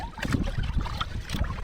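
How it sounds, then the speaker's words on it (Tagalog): Strong wind buffets the microphone on a fishing boat at sea, a continuous rough roar with gusty thumps and low rumble throughout. "pasensya sa hangin, malakas yung hangin"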